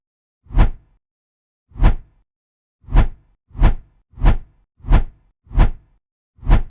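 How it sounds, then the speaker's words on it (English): A short transition whoosh effect is played eight times in a row, each a quick swelling swish rising and falling, alone against silence with slightly uneven spacing. "So let's say we have a simple swoosh sound effect for a transition."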